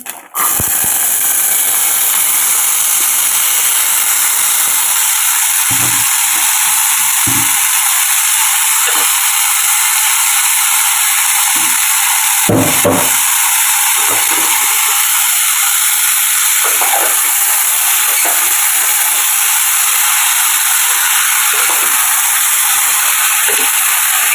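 Pea curry tipped into a hot pan, giving a loud steady sizzle and hiss of steam that carries on throughout, broken by a few brief clanks of utensils.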